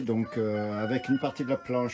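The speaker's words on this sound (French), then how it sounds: "vous entendez le coq qui chante là" A rooster crows several times nearby, drawn-out harmonic calls in repeated bursts, while someone talks over it in French.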